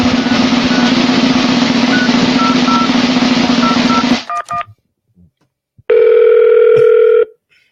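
A telephone call placed to Texas: a steady dial tone for about four seconds, then a few quick dialing beeps, a short pause, and one loud electronic ring tone, with no voices.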